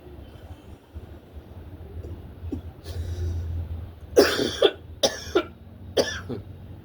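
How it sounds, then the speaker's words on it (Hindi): Three or four sharp coughs in close succession after a full exhale during pranayama breathing practice stand out over a low background rumble, following a softer breathy exhale. "खांसी भी आती है जब पूरी सांस को आप बाहर करते हैं।"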